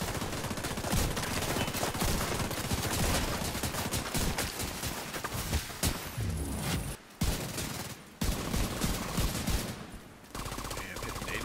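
Sustained rapid gunfire in The Division 2 PvP, loud and dense automatic bursts firing almost nonstop, with a few brief pauses between volleys.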